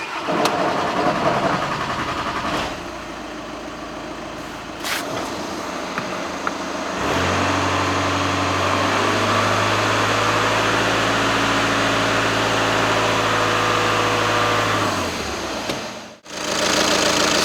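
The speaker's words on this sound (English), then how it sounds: "As you can see, the car started. It struggled a little bit in the beginning" A 2.0 TDI diesel engine in an Audi Q3 cranks with some struggle after a fuel filter replacement, then catches and settles into a steady, close-up idle before ending abruptly.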